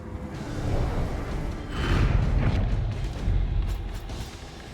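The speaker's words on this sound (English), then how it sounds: "and there's the cannon." Cannon fire in the dark fantasy game Darkest Dungeon 2: booming, rumbling blasts that swell in three loud waves, with a whooshing rush over dense low-end noise and no talk.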